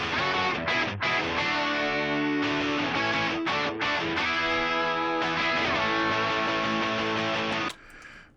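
Electric guitar through an amp simulator and overdrive plays a steady stretch of chords and single notes with a thick, saturated tone, ending abruptly into a brief noisy tail.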